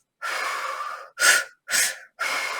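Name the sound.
deep belly inhale, holotropic breathing demonstration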